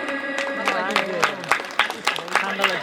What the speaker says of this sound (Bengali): সবাই হাততালি দেবে একটু